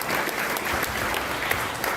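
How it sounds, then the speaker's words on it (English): Steady audience applause at a speaking event, dense continuous clapping from a sizeable crowd at moderate distance for about two seconds. "Round of applause for that."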